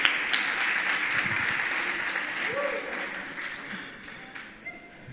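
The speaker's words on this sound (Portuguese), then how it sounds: "uma salva de palmas para esse soldado" Congregation applauding a soldier at an evangelical church service, a dense wash of clapping that stays steady for several seconds, then slowly thins and fades out near the end.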